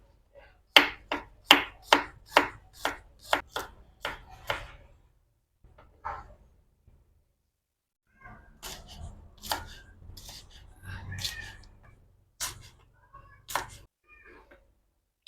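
A knife slices onions and other ingredients on a board for a taro-stem stir-fry, giving a quick run of crisp chops, a pause, then a looser series of cuts with soft handling noises between them.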